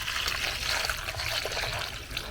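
Warm water pours steadily into a container while preparing an aloe vera sauce, a continuous close trickle and splash with no talk.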